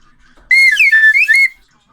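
A slide whistle glides up and down in pitch for about a second, loud and close, alone against silence.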